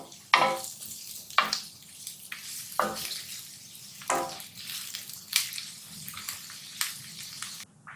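Chopped garlic sautés in a pan, intermittent bursts of sizzling as it is stirred, about six sharp hissing swells separated by quieter low crackle, close up and without talk.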